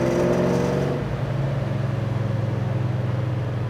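A 1970 Chevrolet Chevelle SS V8 pulls under throttle on the road, a steady loud engine drone with a clear tonal hum, rising briefly before settling into a constant cruising roar.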